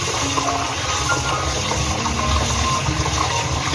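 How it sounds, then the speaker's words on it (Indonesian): Grated carrot being washed under a running tap until the water runs clear: a continuous rushing stream with faint clattering underneath, steady and fairly loud throughout, with no talking. "ini kita cuci dengan air mengalir seperti ini sampai airnya itu bening"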